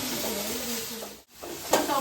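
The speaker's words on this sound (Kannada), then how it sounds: "ನೆಕ್ಸ್ಟ್ ಟೊಮೊಟೊ ಹಾಕ್ತಾ ಇದ್ದೀನಿ. ಚೆನ್ನಾಗಿ ಫ್ರೈ ಮಾಡ್ಕೋಬೇಕು" Tomatoes frying in a pan for a home-cooked dish, a steady close sizzle with stirring scrapes, a brief dropout midway and a sharper clatter near the end.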